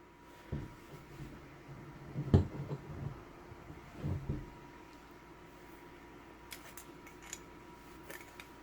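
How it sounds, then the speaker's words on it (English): Locking pliers clamping down with a ratcheting action, giving a few scattered mechanical clicks and snaps, then lighter, sharper ticks toward the end, close and fairly quiet. "Get a little ratcheting type action going"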